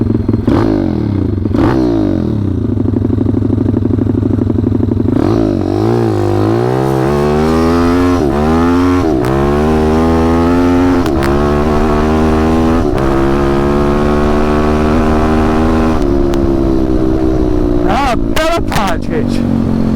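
A WPB 190 pit bike engine fitted with a new NIBBI carburettor runs loudly and continuously, its pitch rising and falling with throttle blips while a person talks over it.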